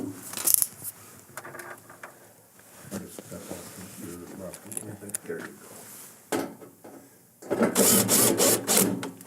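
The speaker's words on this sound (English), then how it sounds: "We'll return the 2 1/4" screws in the center here." A screwdriver drives screws back into the fresh food section panel of an Estate refrigerator, with intermittent ratcheting and whirring bursts, louder at the end, close by under spoken instructions.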